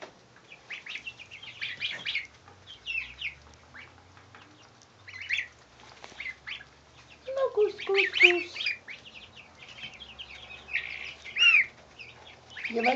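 Goslings in a brooder give high, thin peeping calls in scattered bursts, near and fairly faint, with some light rustling and a few low clucking sounds between them.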